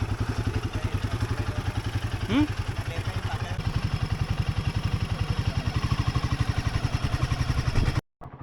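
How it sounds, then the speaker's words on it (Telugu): Motorcycles riding along a road, a steady close engine thrum with rapid rhythmic pulsing that runs continuously before cutting out abruptly near the end; someone talks over it briefly. "మనమైతే ఇప్పుడు మన 2 బైక్స్ని ఒక చిన్న షార్ట్ రైడ్కి అయితే తీసుకెళ్తున్నాం"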